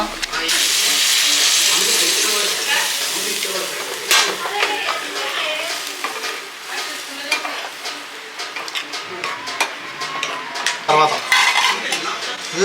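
Spoon stirring and scraping food in a pot at home, with clinks of metal on metal and a sizzling hiss underneath, busy and close throughout with no talk.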